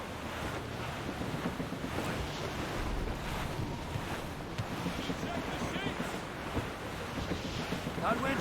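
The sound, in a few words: wind and sea waves at sea in the video game Assassin's Creed Rogue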